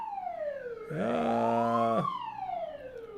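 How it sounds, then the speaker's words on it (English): A siren wails outside, its pitch sweeping down, then rising into a loud, steady blaring tone for about a second before sliding back down and fading. "Oh, there's a siren outside. Can you all hear that?"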